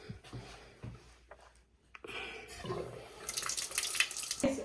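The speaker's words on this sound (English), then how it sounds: "Let me just wash my face." Tap water runs and splashes into a sink during face washing, starting with scattered drips and handling sounds, then a steadier close stream that grows louder toward the end.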